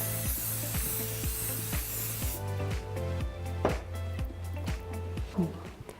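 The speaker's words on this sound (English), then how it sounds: "Next, I'm going to spray along this section and leave it to set for a second." Hairspray hisses in one sustained close spray over a wedding hairstyle for about two seconds, then gives way to soft rustling and handling sounds over a low rhythmic background beat.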